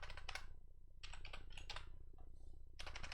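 Fingers type on a computer keyboard in quick bursts of close, crisp key clicks separated by short pauses, over a low background hum, with no talking.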